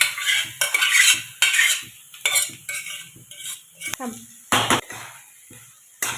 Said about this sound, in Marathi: आता कढईमध्ये डाळ टाकल्यानंतर अशी छानपैकी तिला परतून घ्यायची